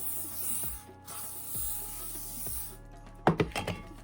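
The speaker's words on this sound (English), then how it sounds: "I really like this hairspray, especially for just like setting things like this" Hairspray hisses in one steady burst for about three seconds as it is sprayed over pinned-up wedding hair, then a few soft clicks and taps follow nearby.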